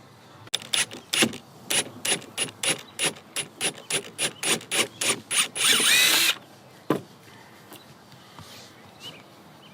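A power drill fitted with a worn bit backs a screw out of a hole in a deck. A quick series of short trigger bursts leads into one longer sustained spin, followed by near silence and a single final burst.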